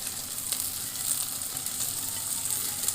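Chopped cucumber, tomato and cabbage tossed in a hot pan for chicken shawarma, giving a steady close sizzle with soft stirring scrapes throughout and no talking.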